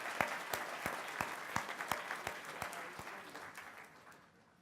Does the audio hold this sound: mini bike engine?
no